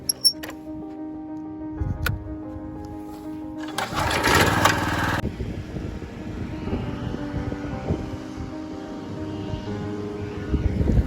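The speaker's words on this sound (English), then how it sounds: "So our mowing pattern is straight vertical, up and down, per the superintendent." A mower cutting a golf course green in straight up-and-down passes gives a steady, droning engine hum close by, rising briefly louder partway through, with no talking.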